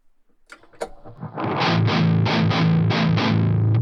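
An electric guitar through a Metal Zone distortion pedal emulator plays heavily distorted chords, a few muted picks and scrapes first, then a thick, sustained crunchy riff with rhythmic chord stabs.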